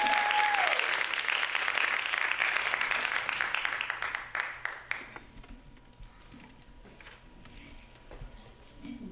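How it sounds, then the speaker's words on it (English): At a women's conference an audience applauds a speaker as she is introduced, dense clapping that thins out gradually into scattered claps and a quiet room. "Let's give her a round of applause."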